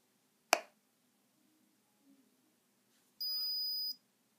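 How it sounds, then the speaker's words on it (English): An IDmate Quest handheld device powering down gives a short electronic beep of under a second, preceded by a sharp click from a button press in an otherwise quiet room. "We'll know when we hear a beep."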